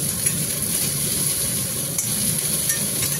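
Pumpkin flower pollen and stems fry in a pan with a steady, loud sizzle and stirring, constant throughout with no talk.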